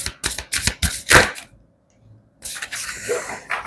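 Tarot cards are shuffled in quick, crisp riffling bursts, a run of close papery flutters, a brief silence, then another stretch of shuffling.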